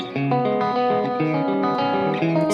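Electric guitar picking a chord arpeggio pattern, clean with an effects-unit tone, notes ringing one after another in a steady repeating sequence, close and alone with no talk.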